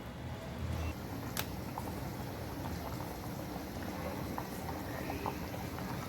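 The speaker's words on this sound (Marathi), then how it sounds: "हे बघा चांगली अशी उकळी येऊ होई जरा शिजाव होई" Dried small fish curry boils steadily on low gas in a pot, a continuous close bubbling and simmering with small pops, with no talk over it.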